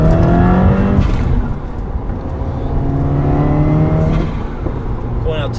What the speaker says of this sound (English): I'm gonna roll into the throttle and accelerate.